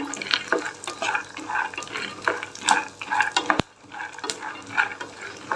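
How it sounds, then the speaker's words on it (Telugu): Red and white peanuts frying and being stirred in oil, with a steady crackling sizzle broken by repeated scraping stirs and one sharp clack of a utensil partway through; no talking. "ఆయిల్లో వేపుకోవడం కోసమే వేసాను నేను రెండు మిక్స్ అయ్యాయి ఇందులో రెడ్వి వైట్వి పల్లీలు"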